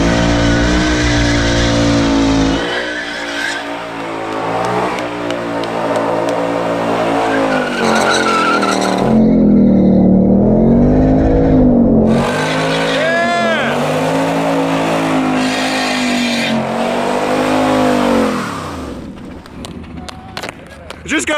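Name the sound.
Ford Mustang Bullitt driven hard by NASCAR driver, tire squeal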